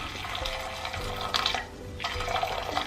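Boiled hot water is poured from a kettle or pot to make a bain-marie for melting chocolate, giving a steady close-up splashing stream that thins briefly midway, then returns just as strongly.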